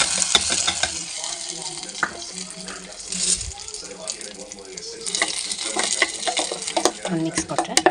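A spoon stirs a hot tempering of oil, mustard seeds and urad dal into coconut-style chutney, with clattering scrapes and splashing mixed with faint sizzle and running-water noise.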